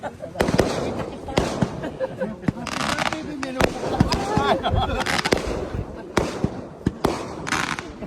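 Fireworks crackle and bang in repeated sharp bursts, some near and loud, others scattered, with voices talking between the blasts.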